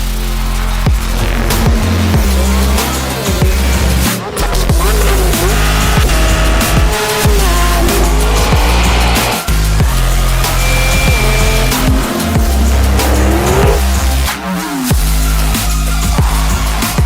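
A 1000 hp Hummer EV electric pickup spins tight 360s, giving a loud continuous roar of tire noise and wheel scrub with squeal swells and a steady low rumble throughout, close and unbroken.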